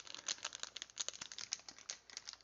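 Dense, rapid crinkling and crackling of stiff plastic packaging being pried open, close and fairly quiet, in irregular bursts with no talking.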